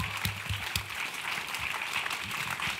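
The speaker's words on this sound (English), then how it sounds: "Round of applause." An audience gives a round of applause after a film screening, a fairly quiet, dense patter of clapping that runs steadily for a few seconds.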